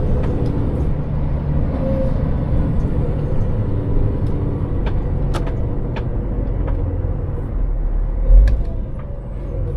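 A heavy diesel vehicle strains slowly up to speed on a road, with a deep continuous engine rumble and some cab rattles, a brief low thump near the end, and no talk.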